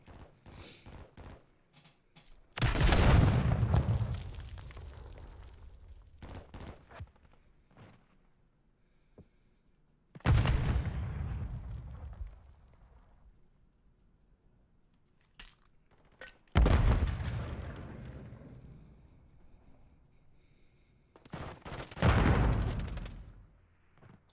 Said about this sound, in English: Did my character just throw two flashbangs?